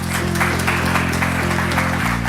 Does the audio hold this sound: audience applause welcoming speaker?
yes